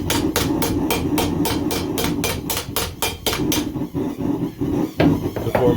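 Rapid, evenly spaced hammer blows ring out close by as a forged blade is smoothed, about a dozen sharp strikes in quick rhythm before a few scattered taps and clatter.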